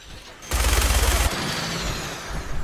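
Rapid automatic gunfire in Fallout 4, a dense loud burst of shots lasting under a second and then trailing into rumbling reverberation and lingering noise.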